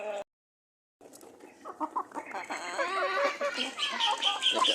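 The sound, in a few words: native chickens clucking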